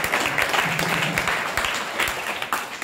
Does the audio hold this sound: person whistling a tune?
no